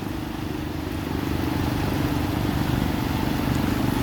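A tricycle engine runs steadily, a continuous low motor rumble at moderate, even loudness with no voices over it.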